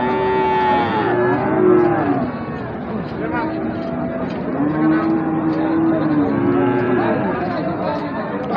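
A Gir bull at a busy cattle market gives long, loud moos that rise and fall, with crowd chatter and vehicle noise underneath.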